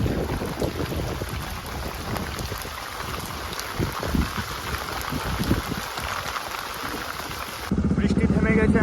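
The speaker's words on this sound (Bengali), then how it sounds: "পিছনে দেখতেই পাচ্ছ বৃষ্টি হচ্ছে" Steady rain falls at the edge of a forest in Ronjokali, Malda, as a dense, continuous hiss with scattered drop patter that turns heavier and closer near the end.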